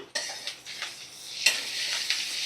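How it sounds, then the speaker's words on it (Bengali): Eggplant with ginger-garlic paste being stirred in a wok, gentle sizzling broken by several scraping strokes and a sharp clink of the utensil against the metal. "দিয়ে ভালো করে নাড়াচাড়া করে নেব"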